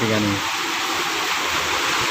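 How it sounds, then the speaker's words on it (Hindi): Floodwater left by heavy rain gushes steadily around a flooded anganwadi lane in Chikhli, Pune, making a loud, continuous rushing hiss. A person speaks briefly over it at the start. "ए पानी है पानी पानी"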